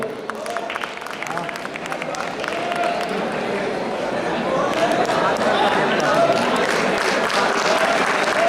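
A stage audience at a college freshers' event applauds to welcome a guest, steady dense clapping that swells and grows louder toward the end, with some talk mixed in.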